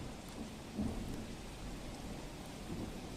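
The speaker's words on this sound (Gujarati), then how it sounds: "ભરૂચમાં સતત એક કલાકથી ભરૂચ શહેરમાં વરસાદ વરસી રહ્યો છે" Steady, dense heavy rain falls continuously on Bharuch, India, with a low rumbling wash underneath, a constant roar without voices.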